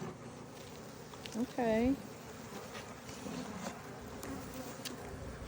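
Honey bees buzz around a hive box on a ranch in March, a faint, continuous droning hum with a brief louder buzz passing close, while a person says a word over it.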